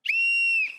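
A single loud, steady whistle blast, held for just under a second, is blown to start a life raft drill aboard a boat.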